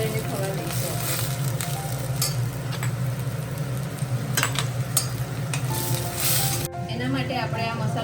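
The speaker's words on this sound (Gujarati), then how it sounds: "એમાં આપણે લીલી ડુંગળી ઉમેરી છે, એને હલાવીશું થોડી" Green onions fry in a pan while being stirred, with a steady close sizzle and scraping stir strokes throughout. Near the end the sizzle drops away and someone begins talking.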